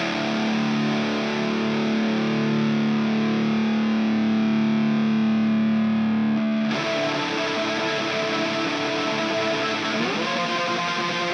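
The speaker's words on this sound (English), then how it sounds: "So yeah, that's the main rhythm guitar." Distorted black metal rhythm guitar plays with the reverb muted: a loud, dry, continuous wall of sustained chords that shifts to a brighter, buzzier tone partway through, with no voices.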